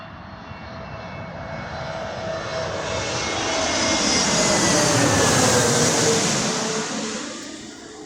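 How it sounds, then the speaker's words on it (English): An Airbus A321neo jet airliner approaches to land and passes overhead, its roaring engine swelling to a loud peak with a falling whine, then fading slightly. "Oh, it's the Neo version. So it sounds like a 777. It's coming to land"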